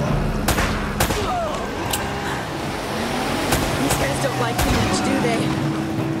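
Gunfire from an ambush in Uncharted: Drake's Fortune, with repeated sharp shots cracking over a dense, noisy battle bed of rumble and effects while voices talk through it.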